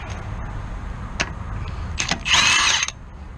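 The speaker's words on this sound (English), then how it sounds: "All right, so lug nuts are out." A power tool whirs on the lug nuts of a 1976 Corvette wheel, with a few sharp clicks followed by a brief, loud, close burst of drilling that stops abruptly.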